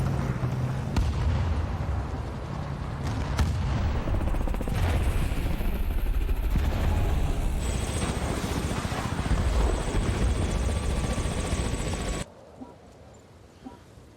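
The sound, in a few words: Hokum attack helicopter in the Armored Warfare video game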